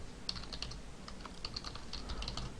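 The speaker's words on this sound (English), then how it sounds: "We're going to type in name" Typing on a computer keyboard during a Dreamweaver CS4 form-filling session, a quick run of light, close key clicks with brief pauses, quiet and without talk.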